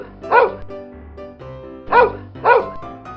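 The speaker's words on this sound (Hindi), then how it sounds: "अपने 6 कुत्तों को लेकर सड़क पर घूमने चला आया" Several dogs being walked along a village road, with three loud, close barks, a single one followed by a quick pair, and softer low whines between them.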